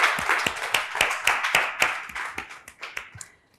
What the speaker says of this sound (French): Et on applaudit très fort pour le recevoir.